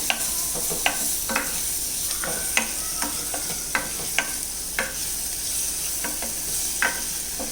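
Tomato being stirred and sautéed in a pan for a tomato curd curry, a steady sizzle broken by frequent crisp scraping and tapping strokes of the spoon at an irregular rhythm, close and alone.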